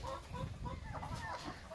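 Laying hens in a poultry house in El Salvador cluck faintly in short, overlapping calls against a low, steady background hum.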